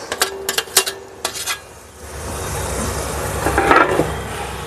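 Fried chicken tossed in a masala-coated oily pan: several quick clinks and scrapes of a utensil at first, then a sustained rising sizzle and rustle, close up with no voices.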